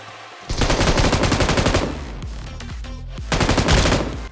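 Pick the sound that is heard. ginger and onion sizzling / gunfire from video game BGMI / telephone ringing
gunfire from video game BGMI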